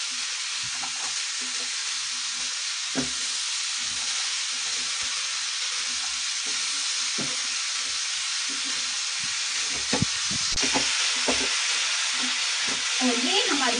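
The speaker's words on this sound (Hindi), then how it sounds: "अब मैं इसके अंदर ये मटर भी डाल दूंगी और इन्हें भी मिक्स कर लूंगी मैं।" Peas stirred into mixed vegetables frying in a pan for a home-style mixed vegetable sabzi: a steady close sizzle runs throughout, broken by irregular scraping knocks of the spoon, busier near the end, with no talking.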